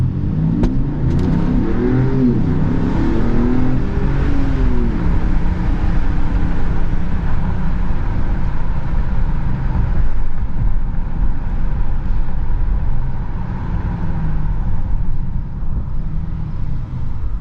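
A 2020 Mercedes-Benz GLE 450 4MATIC SUV in sport mode pulls away hard, its engine rising in a loud, steady rev that holds through the whole stretch without speech.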